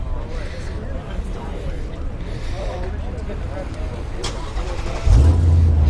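Dodge Ram SRT10 pickup with a Viper V10 engine, a steady deep rumble at a car show with a low revving swell near the end, under chatter from a nearby crowd.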